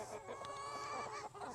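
Chickens cluck and call in a farmyard coop at feeding time, a busy overlapping flock chorus that carries steadily and fairly loud from start to finish.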